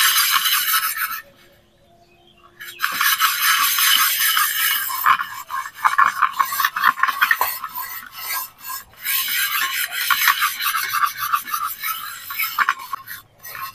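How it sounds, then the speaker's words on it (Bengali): Steel wire dish scrubber rasping against a surface, loud and close, a steady run of harsh back-and-forth scrubbing with a brief pause near the start, no talk. "যে স্টিলের হয় না তারের বাসন মাজা, সেটা নিয়েছি। এটা দিয়ে ঘষে দেবো।"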